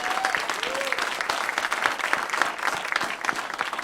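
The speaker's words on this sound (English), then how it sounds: "applause." Dense, steady clapping from a large conference crowd fills the whole stretch, with a couple of faint whistles near the start.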